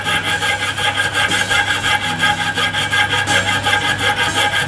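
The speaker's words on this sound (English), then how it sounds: "piercing saw to cut the trigger shape out of this piece of alum there" A fine piercing saw cuts a trigger shape from a piece of aluminium, giving a close, rhythmic rasping of steady back-and-forth strokes.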